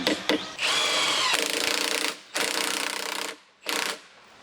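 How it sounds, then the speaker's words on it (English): Impact wrench driving coach screws into a swing set frame, several loud hammering bursts of varying length with brief pauses between, close by. "used the impact wrench to drive"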